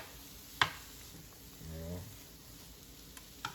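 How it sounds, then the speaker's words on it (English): Mushrooms frying in a pan for a vegetarian taco filling, a low steady sizzle beneath brief clatters of a utensil against the pan, with a soft muffled stirring sound in the middle. "Let these mushrooms go ahead and cook out."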